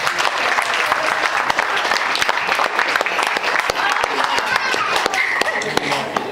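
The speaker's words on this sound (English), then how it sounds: "So, come a round of applause, please." Steady applause from a crowd at a golden wedding anniversary celebration, dense clapping filling the whole stretch at a loud, even level.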